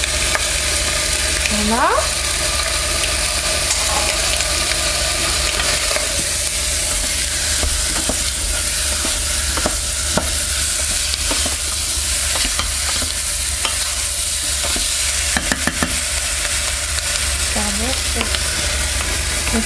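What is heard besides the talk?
sliced onions frying in a pan for poulet basquaise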